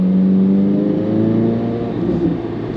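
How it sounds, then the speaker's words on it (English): The flat-plane crank V8 of a modified C8 Corvette Z06 revs loudly and up close, with a steady, high-revving engine drone that eases slightly as the rev falls away. "those 8 pistons firing off with that flat plane crankshaft"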